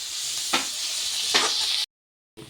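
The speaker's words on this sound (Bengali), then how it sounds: "তো এবার ভালো করে এটাকে ভাজা ভাজা করব।" Ridge gourd peel frying in a pan with salt, turmeric and a pinch of sugar gives a steady close sizzle, with two brief stirring scrapes before the sound cuts out abruptly and then returns.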